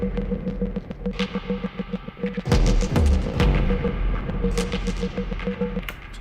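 An Elektron Analog Four and a Roland System 1 play a layered synth track together. A pulsing repeated tone runs under heavy booming percussive hits and reverberant, atmospheric textures, with no voices.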